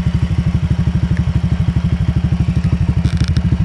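A Honda Click 125 scooter fitted with a T4S aftermarket exhaust pipe idles close by, putting out a loud, even, rapid low thumping pulse with no voices over it.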